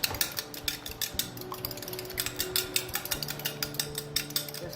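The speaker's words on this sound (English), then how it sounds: "just lightly beaten with a fork" Eggs lightly beaten with a fork in a bowl for a low-carb meatloaf, a steady run of quick clinking taps of metal on the dish, close and fairly quiet, with no talk.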